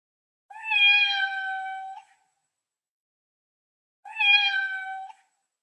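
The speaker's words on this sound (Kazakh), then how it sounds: "Мысық." A domestic cat gives two clear, drawn-out meows a couple of seconds apart, close and loud against silence.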